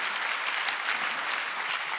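A congregation at a Sunday church service claps for a couple, a dense, even round of applause that is moderately distant and continues steadily without talk.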